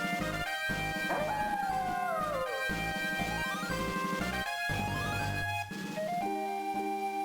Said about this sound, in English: you got, like, a photorealistic wolf howl?